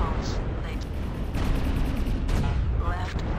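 LB-10 autocannon fire slams into a Fafnir mech in a video game, a run of heavy booming bursts and rumbling impacts that stay loud and dense throughout.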